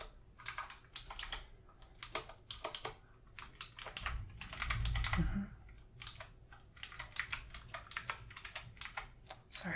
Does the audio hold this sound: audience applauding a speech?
no